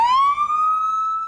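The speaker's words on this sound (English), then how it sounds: "Sirens blaring." A single loud police siren wail rises and holds steady, close and piercing, with no other sounds around it.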